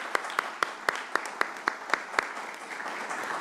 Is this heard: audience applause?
yes